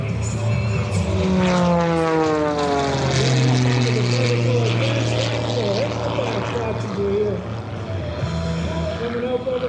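A propeller airplane engine drones loudly during aerobatics at an airshow, its pitch sweeping up and down as the plane rolls and loops, with a voice talking over it.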